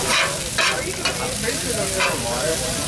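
Potatoes stirred and scraped in a hot pan, with loud sizzling frying under repeated scoops and scrapes of a utensil across the pan, close up.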